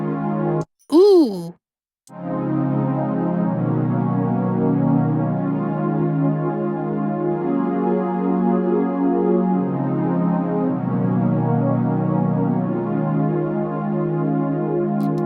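A sustained piano chord with a flat seventh and a ninth rings out and holds, shifting slightly partway through, after a brief squeaky exclamation at the start.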